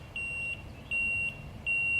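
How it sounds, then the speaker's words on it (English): Street sweeper working downtown gives off three long, steady electronic warning beeps in an even rhythm, each lasting about half a second, over a low rumbling background. "The street sweeper. He won't leave me alone."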